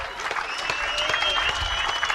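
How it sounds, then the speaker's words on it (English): Crowd applause spreading around the ground at a football grand final, sustained, moderately distant clapping with a commentator talking over it. "round of applause goes around"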